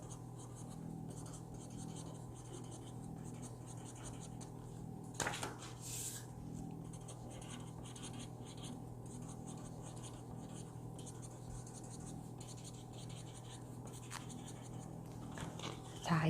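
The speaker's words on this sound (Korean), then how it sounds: "내용에 맞는 글을 적어 놓습니다." A pen writes text onto paper for a handmade pop-up book, a quiet, steady scratching stroke that runs continuously at close range, with a couple of soft bumps.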